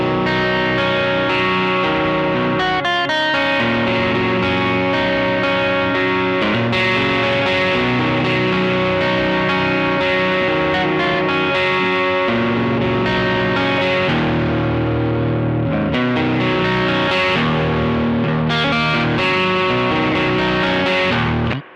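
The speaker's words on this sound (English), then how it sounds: "So that's overdrive and distortion." Electric guitar played through overdrive and distortion pedals, thick saturated chords ringing with sustained harmonics and occasional pick attacks and changes, continuous and loud on its own until an abrupt cut at the end.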